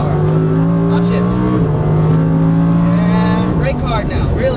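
A race car accelerates hard on track behind a Ferrari, its engine whine climbing steadily and dropping with each upshift before climbing again, loud and close, with a voice speaking over it.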